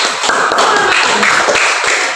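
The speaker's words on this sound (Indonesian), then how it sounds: "Iya, tepuk tangan dulu." Fourth-grade schoolchildren clapping hands in an elementary classroom, quick uneven claps with some taps, close and moderately loud, with faint voices mixed in.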